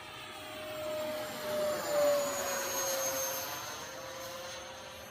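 A Freewing Eurofighter Typhoon RC jet with an upgraded FMS 90mm 1900kv electric ducted fan makes a high-speed pass, giving a steady whooshing turbine whine that swells and fades slightly at a moderate distance, with no talk.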